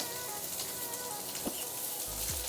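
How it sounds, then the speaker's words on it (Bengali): Garlic and onion frying in a pan in a village kitchen, a faint continuous sizzle with a soft stirring scrape near the end. "রসুন আর পেঁয়াজ এগুলো একটু ভেজে দিচ্ছি।"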